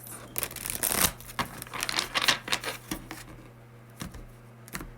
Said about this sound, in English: let's shuffle one more time and get our clarifiers